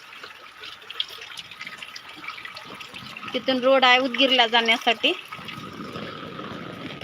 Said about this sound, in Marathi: किती मोठा पाऊस आहे